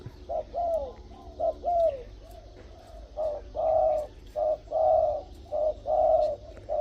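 Dong Fai, a tame decoy dove with a mid-to-deep voice, coos close and clear in a rhythmic series of repeated short phrases separated by brief gaps.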